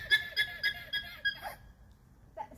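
A series of five shrill, rhythmic alarm calls from an alpaca, evenly spaced and fairly close, followed by a pause and one softer trailing sound.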